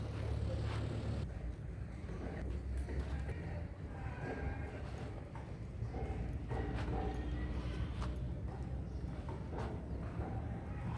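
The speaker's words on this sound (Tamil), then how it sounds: "அது மாதிரி இதுவும் நல்லா ட்ராட்டில் ஓடக்கூடிய குதிரை." Hooves clip-clop steadily as a Nukra-coloured native stallion trots, bred for dancing, the beats soft and continuous under a broad noisy outdoor background.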